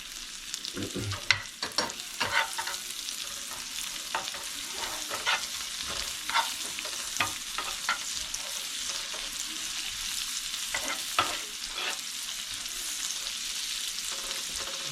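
Onion, garlic, green chili and cumin frying in a pan, a continuous hissing sizzle broken by frequent clicks and scrapes of stirring, close and moderately loud.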